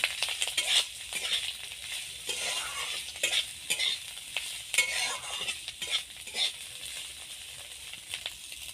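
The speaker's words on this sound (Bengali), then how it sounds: "তেলটা গরম হয়ে গেছে এবার ছাড়ানো গেঁড়িগুলো এর মধ্যে দিয়ে দেবো দিয়ে হালকা ভেজে নেব" Shelled pond snails fry in hot mustard oil with a steady close crackling sizzle, broken by repeated scraping stirs of a spatula against the pan and no talking.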